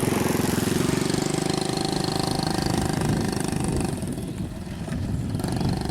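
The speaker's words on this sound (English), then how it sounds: "it's a walk behind tractor is what it is" A small single-cylinder walk-behind tractor engine in Thailand chugs loudly nearby with a rapid, rough putter, dipping briefly before steadying again.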